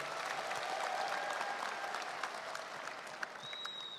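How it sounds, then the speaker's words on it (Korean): Crowd at a Democratic Party campaign launch event applauding to welcome speakers, dense continuous clapping that fades slightly toward the end, with a faint voice beneath. "여러분 뜨거운 박수로 맞아주시기 바랍니다."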